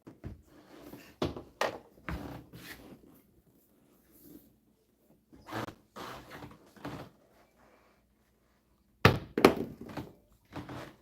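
Dice thrown onto a home craps table land and tumble, giving a series of irregular wooden thunks and rattles in short bursts with quiet gaps between, one louder clatter near the end.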